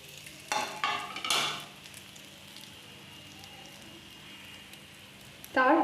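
Small pieces of bread dropped into a little hot oil in a pan for croutons, giving a few crackling sizzle bursts near the start, a quieter hiss through the middle and a louder splatter at the end, with a person speaking.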